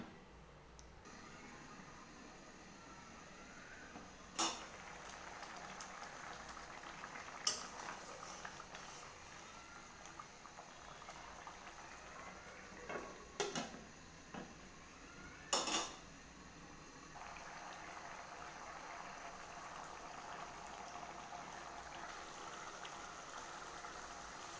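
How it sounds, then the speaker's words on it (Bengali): Prawns simmer in a covered pan as a soft, faint bubbling hiss runs steadily, broken by a few sharp lid or utensil clanks near the middle; quiet and close, no speech. "এখন ডেকে ডেকে দেবো চিংড়ি মাছটা সিদ্ধ হওয়ার জন্য"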